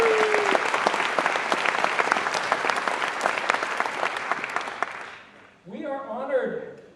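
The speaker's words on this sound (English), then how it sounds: "One more big round of applause for all of our new employees." Loud, sustained applause from a convocation audience welcoming new employees, a dense clapping roar lasting about five seconds before it stops abruptly and a voice begins speaking.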